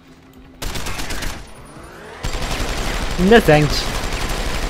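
Gunfire in Deus Ex: Human Revolution, a dense burst of shots mixed with game effects, under a voice talking over it.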